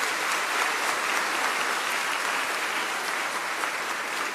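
A church congregation at a thanksgiving Mass for a priest's 50 years of priesthood applauds his older sister with sustained, even clapping from many people, echoing steadily through the space.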